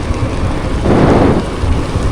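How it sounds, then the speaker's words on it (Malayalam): Light rain falls steadily on a mountain road in Kashmir while a low roll of thunder swells up midway and fades, loud and close, with no voices. "അങ്ങനെ മഴ പെയ്യുന്നില്ല, ചെറിയ മഴ."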